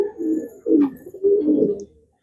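Domestic pigeon cooing close by, two or three rolling coos in quick succession, clear and alone before falling silent.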